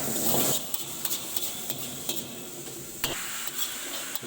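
Paneer and vegetable dim sum stuffing with black pepper and salt is stirred in a pan, giving steady sizzling under repeated scrapes and light clinks of a utensil against the metal, close and moderately loud, with no talking.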